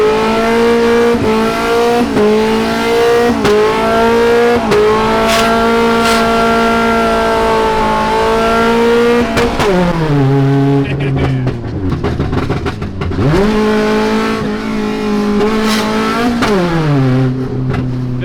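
A 60 hp Honda Civic revs hard while drifting, its engine note climbing, holding and dipping through repeated high-revving pulls, loud and close throughout with brief tire noise.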